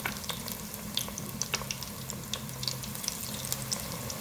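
Eggplant fritters (baingan pakoras) sizzle steadily in hot oil, a close, continuous crackle with sharp pops scattered throughout.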